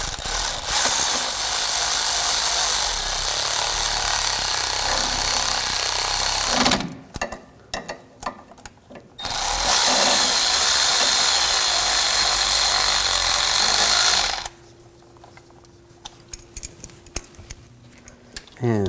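Power tool work on the water pump bolts of a 2007-2013 BMW 328i 3.0L inline-six engine: two long, loud, steady bursts, then quieter stretches with scattered small clicks and knocks.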